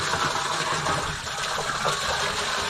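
Water flows steadily from a small tap at a roadside spring, a continuous close gushing stream with no voices over it.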